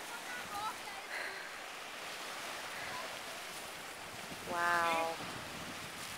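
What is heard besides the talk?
waves on a black sand beach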